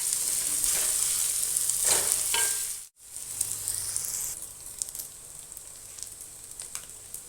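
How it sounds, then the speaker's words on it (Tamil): Fish fries in a pan on a low flame with a loud, hissing sizzle. The sound cuts out for a moment, then the softer crackle of oil continues, with a few light clicks and no voices. "சிம்மில் வச்சு வறுத்தோம்னா பொறுமையாக வறுக்கலாம்."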